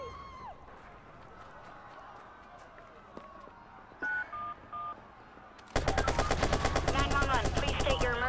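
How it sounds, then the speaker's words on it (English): Gunfire in the video game Watch Dogs erupts midway as a loud, rapid automatic burst with dense repeated shots, preceded by quieter game ambience and a few telephone-dialing beeps. "Help, there's gunfire."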